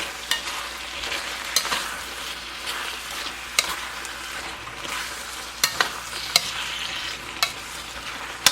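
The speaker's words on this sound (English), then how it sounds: "now we'll go ahead and add our broccoli and our mushrooms. And we're going to mix that up too" Broccoli and mushrooms being stirred into a sizzling beef and shrimp teriyaki stir fry, with steady frying hiss and regular sharp scrapes and clanks of the utensil against the pan, close and alone.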